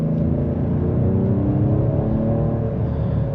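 A 2025 Ford Explorer ST with the 3.0L engine accelerating in traffic, heard from the cabin as a steady, deep engine rumble with a low drone that builds slightly, loud and continuous without talk.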